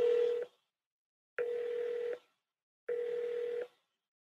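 Three identical telephone keypad tones sound on a phone menu as 3 is pressed, each a steady beep under a second long with even gaps between.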